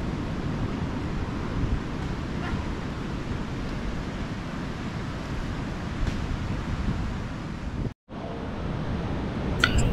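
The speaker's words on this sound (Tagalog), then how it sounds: "dinig na dinig ko pa din yung malakas na alon." Steady roar of strong ocean waves and surf at a beach in Gubat, Sorsogon, with wind buffeting the microphone, a brief dropout near the end.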